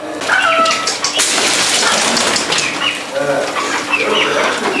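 Busy outdoor ambience with scattered bird calls and pigeon cooing, wing flaps and rustling, with some voices mixed into the constant noise.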